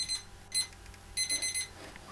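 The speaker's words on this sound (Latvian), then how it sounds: "vienu rītu to modinātāju piemeklēs pelnītu nāvi" An alarm clock rings alone in bursts of high, electronic beeping, with short pauses between groups of tones, fairly faint and steady.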